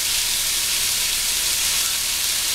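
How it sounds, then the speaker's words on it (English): Chicken frying in a giant skillet, giving a steady, loud, bright sizzle that holds unbroken throughout with no voices. "So basically, I'm gonna let this cook,"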